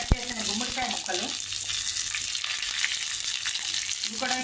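Small pumpkin pieces drop into a hot tempering of oil, chana dal and curry leaves, setting off a loud, steady sizzle with a few stirring scrapes at the start, close to the pan.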